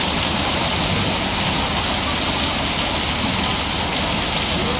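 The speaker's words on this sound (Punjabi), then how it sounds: "ਉਦੋਂ ਮੀਂਹ ਆ ਗਿਆ ਤੇਜ਼" Heavy rain pours down in a dense, steady, loud roar that fills the whole stretch without a break, with no voices over it.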